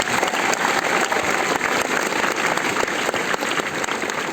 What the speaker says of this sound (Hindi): एक बार सभी के लिए जोरदार तालियां होनी चाहिए।